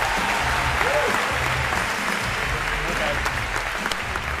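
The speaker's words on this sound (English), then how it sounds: "All right, a round of applause for Andrea if we could" Steady applause from a large lecture audience at Harvard's CS50 fills the whole stretch, dense and unbroken, with a few faint voices mixed in underneath.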